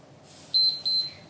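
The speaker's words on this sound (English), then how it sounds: "Listen for the beep." Two short electronic beeps from a workout timer sound close together over a quiet background hum.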